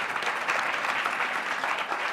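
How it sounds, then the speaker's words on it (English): An audience at a speaker series event claps steadily for about two seconds, a dense, even wash of applause with no talking over it. "Now you can applaud for Cynthia"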